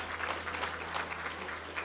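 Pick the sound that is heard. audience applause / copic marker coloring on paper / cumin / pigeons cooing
audience applause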